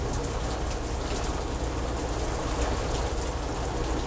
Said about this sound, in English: The rain is very strong.